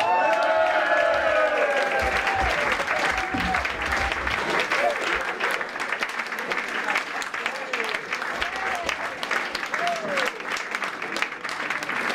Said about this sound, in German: Ein dicken Applaus im Eisplay!